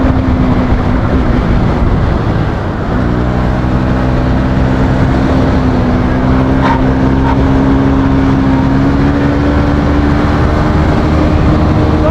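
A motorbike engine drones steadily and loudly throughout a ride on a hilly road near Mailung, holding a continuous hum with slight pitch shifts as the bike labors along.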